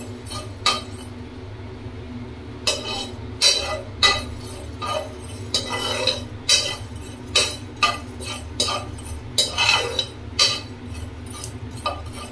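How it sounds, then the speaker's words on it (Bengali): Panch phoron spices being stirred while they dry-roast in a pan. A utensil clinks and scrapes against the metal in an uneven series of light, bright taps over a low steady hum. "এক চামচ মতো 5 ফোড়ন দিলাম, ওটাকে শুকনো খোলায় নেড়ে চেড়ে তুলে নিয়ে গুঁড়ো করতে হবে।"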